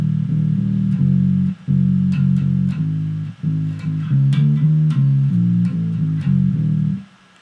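A bass guitar plays a variation of a bass line, steady plucked low notes shifting pitch mid-phrase, close and clear without talk, fading out at the end.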